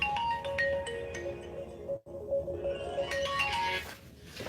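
A phone ringtone plays as a steady melodic electronic tune with a brief cutoff in the middle, then resumes, moderately loud, with no talk.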